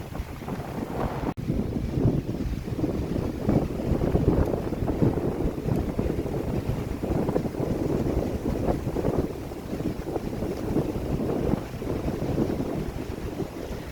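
Strong seashore wind at Finike, Turkey, buffets the microphone in a continuous low roar with gusty surges, loud and close, with no talking.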